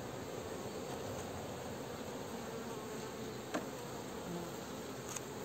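Honey bees hum at a hive during winter preparation, a dense continuous buzz filling the scene at low, steady volume, with a faint click or two but no voices.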